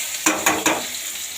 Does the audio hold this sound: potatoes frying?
yes